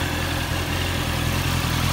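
A Honda CBR650R motorcycle engine idling after a Liqui Moly oil additive, a steady, close and even rumble with no speech.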